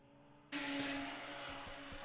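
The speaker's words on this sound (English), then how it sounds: "Really nice sport cars, the Radicals, with Hamish Forrest now the number 95, who passes the start-finish line first." A Radical sports race car sweeps past the start-finish line at Zandvoort during qualifying, a sudden loud burst of engine roar that cuts in sharply and holds as a broad, steady rush.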